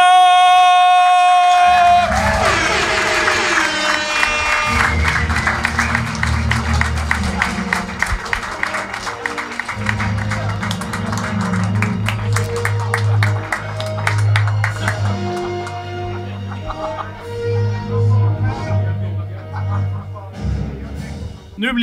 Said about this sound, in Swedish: Så en stor applåd för Captain America!